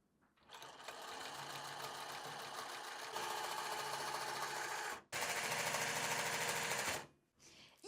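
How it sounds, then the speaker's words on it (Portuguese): A sewing machine stitches along the hem edge of elastic-waist shorts in a loud, steady run that briefly stops, then picks up again for another couple of seconds before stopping. "Agora a gente vai fazer uma costura aqui nessa beirinha da barra"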